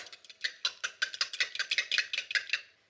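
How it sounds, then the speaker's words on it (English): A fork or whisk beats an egg and water together in a bowl, making a quick, steady series of close, light tapping clinks against the sides, about fifteen strokes in rhythm with no talk. "we're gonna crack the egg into it and whisk it up together"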